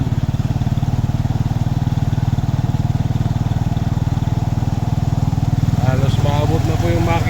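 A motorcycle engine runs steadily as the bike wades through deep floodwater that nearly reaches the engine, a loud, close, even putter with splashing water and light clatter toward the end.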